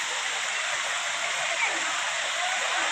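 At Udayagiri hill, a waterfall gives off a steady, dense rush of falling water. The sound is unbroken and even for its whole length, with no voices.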